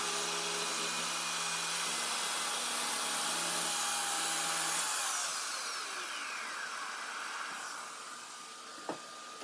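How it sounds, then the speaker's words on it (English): A power saw rips along the edge of a wooden board being trimmed for a cutting board. Its loud, steady whine holds for several seconds, then winds down after the cut and ends with a sharp click. "Set up with my saw right at the front. 2 hands on the machine"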